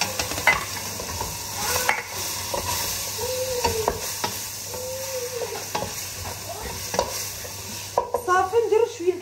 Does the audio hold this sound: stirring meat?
yes